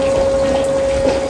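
Water streams into a pot of rice in a kitchen, a steady close splashing and gushing pour with a ringing resonant tone, alone without talk.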